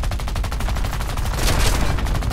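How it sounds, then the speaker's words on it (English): Enemy gunfire in a video game, rapid automatic bursts of shots crackling close and loud in a steady, rattling rhythm, with a denser burst near the end. "Oh, he's shooting back."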